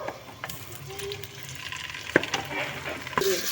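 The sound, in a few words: poppy seeds frying in hot oil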